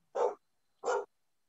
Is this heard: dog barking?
yes